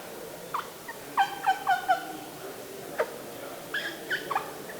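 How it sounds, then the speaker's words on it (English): A series of short, high yelping turkey calls made on a wing-bone caller at a boat and sportsmen show, several quick notes in a row, then a few more after a pause. "It's what the indigenous used to use to make turkey calls from back before when we had plastic."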